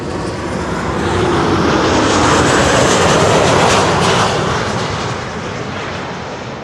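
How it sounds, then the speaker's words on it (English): A Boeing 747 of Challenge Airlines cruises at 35,000 feet, its loud, broad jet roar swelling and then slowly easing off over several seconds, with no voices over it. "Boeing 747"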